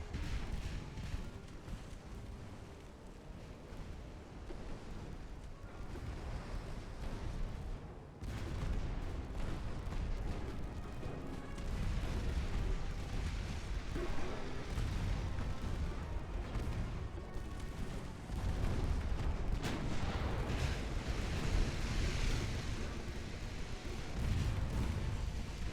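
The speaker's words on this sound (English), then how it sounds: "Trying to hit that damn battleship with everything we got" Naval guns fire at a battleship in Ultimate Admiral: Dreadnoughts, a sustained, distant barrage of booming and rumbling shots that continues steadily without speech.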